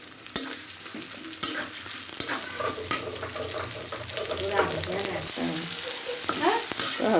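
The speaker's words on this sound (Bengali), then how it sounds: "মশলাটা ভাজা হয়ে গেছে।" Spices cook with tomato in a pan for a broiler chicken curry, giving a moderate sizzle with scraping stirs and some watery bubbling, fairly close and without speech.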